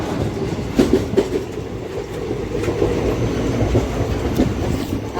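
A train passes close by, its steady heavy rumble broken by a few sharp rhythmic clacks of wheels over rail joints, with no talking.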